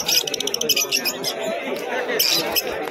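Lovebirds chirp in quick, busy bursts at the crowded Beldanga pigeon market in Murshidabad, with someone talking over them and market chatter behind.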